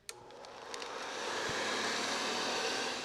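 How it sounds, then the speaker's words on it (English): A vacuum cleaner at a vacuum collectors' convention in Rolla starts up with a click and swells into a steady, loud broadband whoosh and whine that holds close and constant. "That sound may make you think of housework. After all, a vacuum cleaner's job is to clean."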